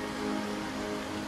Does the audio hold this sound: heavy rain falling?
yes